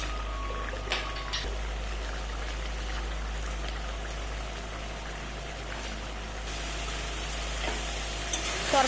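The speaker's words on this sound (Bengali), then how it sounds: "ঝোলটা ফুটে উঠেছে, এখন দিয়ে দেব ভেজে রাখা ডিমগুলো" Egg masala curry gravy bubbling and sizzling in a pan as fried eggs go in, a steady crackling hiss with occasional stirring clinks, close and continuous with no talking.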